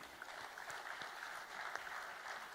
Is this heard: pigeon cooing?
no